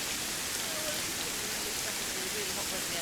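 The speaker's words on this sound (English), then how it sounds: "this kind of rain, no thanks" Steady rain pours down outdoors in Colombia as a dense, even hiss of drops on surfaces, close and unbroken throughout.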